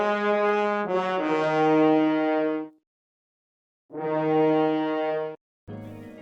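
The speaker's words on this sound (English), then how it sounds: "And after that, I added another layer of a horn sustain from Sonatina Orchestra," Two layered orchestral horn samples, one a Sonatina Orchestra horn sustain, blend into rich held brass chords. Two long swelling phrases are separated by silence, and a short fragment starts at the very end.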